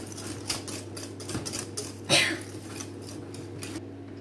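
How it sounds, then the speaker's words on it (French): A whisk clinks and scrapes against a bowl while mixing chocolate cake batter, giving a series of light, irregular metallic taps and strokes at close range, with no talking. "une fois que j'ai bien mélangé, je vais enlever le fouet"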